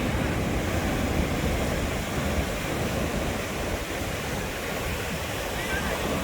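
Loud, continuous rush of sea waves breaking and churning up close at Dhanushkodi, India, a steady roaring wash with no pauses.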